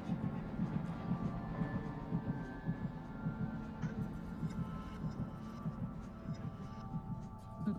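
Heartbeat from the video game Dead by Daylight: a low, steady, rhythmic thumping throbs throughout at moderate volume beneath a faint hum.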